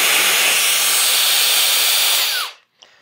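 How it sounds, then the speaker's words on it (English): A HOTO two-in-one air duster and vacuum runs at a loud, steady high-pitched whine, then spins down quickly and cuts off, leaving a brief faint click in near silence. "suction on one end and the blower on the other"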